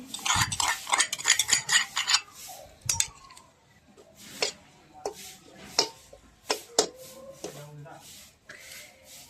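Masala of fried onions, tomatoes and green chillies cooking in a kadai over a traditional clay stove, with a utensil stirring and scraping in quick clatters and rubs, faint sizzle underneath, and someone talking at times.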